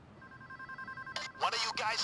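A telephone rings inside the Payday 2 bank heist game, a steady two-tone electronic trill under low background noise, then voices speak over and after it.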